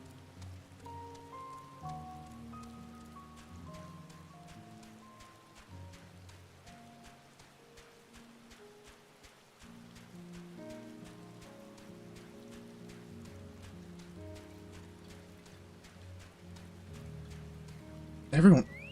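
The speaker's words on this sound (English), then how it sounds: "I'm just given that the weather is rain and not snow." In-game rain falls in Garlemald in Final Fantasy XIV: Endwalker, a soft, steady patter beneath sustained game music, ending in a brief loud burst.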